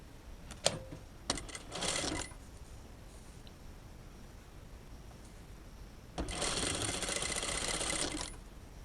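A sewing machine topstitches a seam in short bursts: a few quick stitching runs near the start, a quiet pause, then a longer steady run of about two seconds, heard close and alone.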